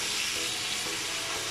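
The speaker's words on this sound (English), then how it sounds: "I'm just giving this a turn, and as you can see, it's caramelizing with all the steak and chop spices" Masala lamb pieces with steak and chop spices sizzle and fry in a pan as they are turned, a dense, continuous crackling hiss heard up close with no talking.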